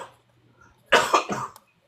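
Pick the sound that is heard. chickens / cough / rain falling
cough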